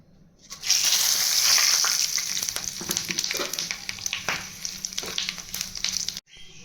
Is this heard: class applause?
no